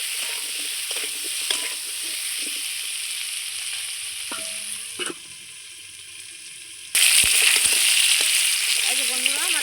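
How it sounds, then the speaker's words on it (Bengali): Potatoes with turmeric frying over a clay stove until browned, a loud continuous sizzle with stirring scrapes that briefly drops quieter before surging back louder near the end. "আলুটাও আমি সুন্দর করে লাল লাল করে ভেজে নেব।"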